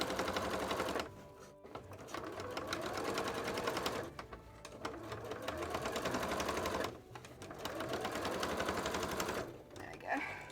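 Sewing machine stitching a costume tail in bursts of rapid mechanical whirring and clatter, stopping briefly between runs, close up, with a voice heard faintly.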